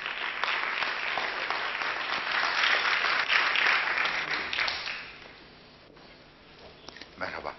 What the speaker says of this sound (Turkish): Kendisini sahneye davet ediyoruz alkışlarınızla.